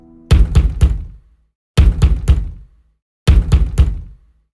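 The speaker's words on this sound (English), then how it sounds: "That's when I heard the banging." Three bursts of heavy banging on a door, each a quick triple knock of loud, hollow thuds, separated by short pauses, with no voices.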